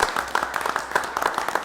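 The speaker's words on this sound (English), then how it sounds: "So I would ask all to round of applause." A short burst of clapping from a small group at a township committee meeting, uneven and moderately loud, with no talking.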